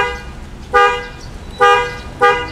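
Bos-brand aftermarket horn fitted without a relay on a Honda Brio, sounding three short, loud honks close up, the last two in quick succession, with no talking.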